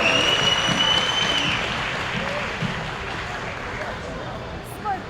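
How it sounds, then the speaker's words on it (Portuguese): A crowd at an Anime Friends convention interview with Cybercops and a guest bursts into dense, loud applause that slowly thins and fades, with faint voices mixed in. "Salve de palmas!"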